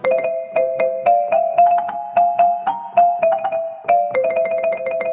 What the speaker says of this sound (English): You can get a marimba.